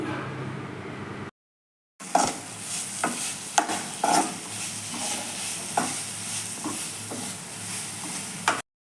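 Sliced onions with turmeric fry in a pan as they are stirred, a continuous sizzle with repeated spoon scrapes and taps, preceded by a brief silent break; no talking.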